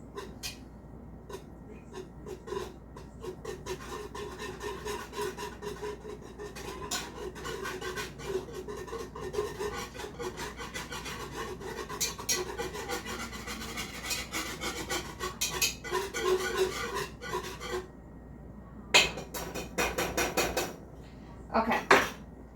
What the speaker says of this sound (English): So I'm going to stir it in real good.